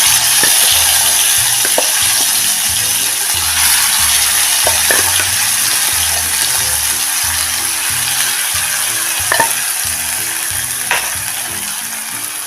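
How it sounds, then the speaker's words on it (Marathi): Finely ground onion-garlic masala paste fries in a few spoonfuls of hot oil in a pan for a Kolhapuri tambda rassa. The close, steady sizzle hisses throughout, and low stirring scrapes and knocks come at intervals. "त्यामध्ये आपण हा बारीक केलेला मसाला कांदा लसूण चटणी टाकून चांगला परतून घ्यायचा आहे"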